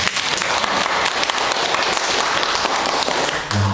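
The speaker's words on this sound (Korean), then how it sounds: "박수 한번 치겠습니다" Applause from a church congregation, a steady dense wash of clapping that fills the space and stays even throughout before ending abruptly.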